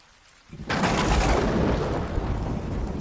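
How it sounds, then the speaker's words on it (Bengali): A lightning strike on a rainy night in a horror cartoon: after a brief hush, a loud thunderclap bursts in and rolls on as a dense, sustained rumble filling the rest of the moment. "ঠিক তখনই আকাশের তীব্র শব্দে একটি বাজ পড়ল"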